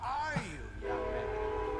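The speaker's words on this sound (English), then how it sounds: "looks like the train's coming by" A train horn sounds in Bully: Scholarship Edition as a train passes, a sliding, descending horn blast followed by a sustained steady tone under rumbling rail noise, with a voice talking faintly.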